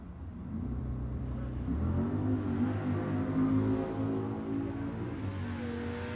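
Big block nitrous-assisted 1970 Chevelle on a drag strip, a deep engine roar building and holding at high revs, loud and steady for several seconds.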